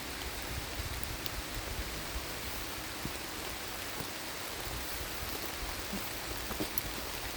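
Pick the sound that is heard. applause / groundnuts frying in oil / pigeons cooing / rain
rain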